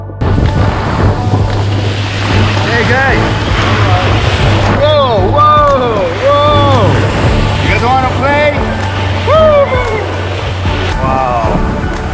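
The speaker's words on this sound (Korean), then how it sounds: "이 배를 타고 갈 거고요" A boat motors across open water off the coast of Mexico, with a steady engine drone and wind rushing over the microphone, while people talk loudly nearby throughout.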